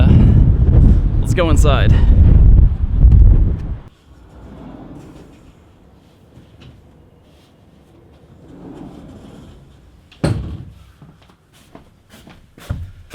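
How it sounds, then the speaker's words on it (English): Gusty outdoor wind buffeting a handheld microphone on a high, exposed spot, with heavy rumbling bursts at first that settle into lighter swirling noise, and someone talking briefly. "it's a little windy up here"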